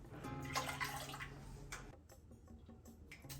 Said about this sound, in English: I've always tried to get room temp water just from the tap